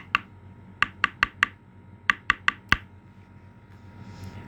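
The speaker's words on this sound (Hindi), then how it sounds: "तभी कोई दरवाजे पर दस्तक देता है।" Someone knocks on a wooden door in two quick bursts, four sharp raps then four more, close and distinct over faint room noise with no voices.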